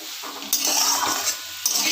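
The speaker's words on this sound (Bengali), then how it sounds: "মশলাটার সঙ্গে আলু থোর দুটোই ভালো করে কষাতে থাকবো।" Potatoes and banana stem sautéed with spices and Kashmiri chili powder in a pan, giving steady scraping and stirring clatter with a soft sizzle, close up and with no talking.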